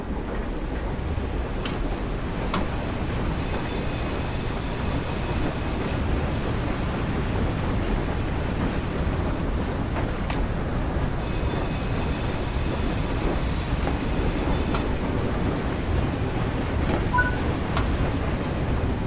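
A train in Train Sim World 4 rumbles along loudly and continuously as its brakes are applied, with two long, steady high-pitched squeals from the wheels over the heavy rolling noise.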